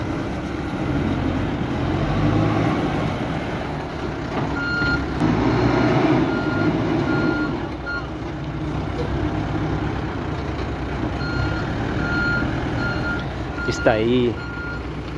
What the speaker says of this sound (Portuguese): Esse caminhão-pipa aí é pra sugar água da pessoa.